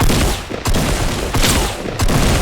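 Rapid, continuous gunfire fills a round of the video game Fortnite, loud and dense throughout with a few sharper shot peaks breaking through the barrage. No voices are heard.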